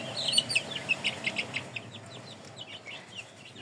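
Faint turkey hens calling, a quick series of soft clucks and chirps that thins out over a quiet background.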